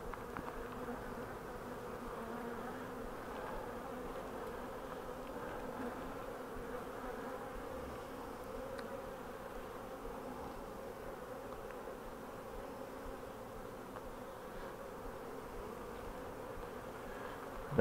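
Honey bees lifting off frames of a queenless hive, a faint, even, droning buzz that holds steady with no pauses for the whole stretch.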